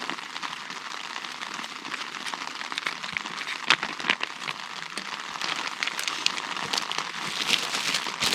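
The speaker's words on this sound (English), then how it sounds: "It's raining again." Rain falls steadily in the Alaska wilderness during a moose hunt, a constant close patter with scattered sharper drops throughout and no voices.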